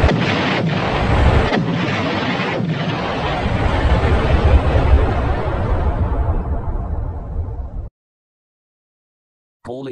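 A big cartoon explosion sound effect roars loud and sustained for about eight seconds with rumbling low end, cuts off into silence, then a voice starts briefly at the end.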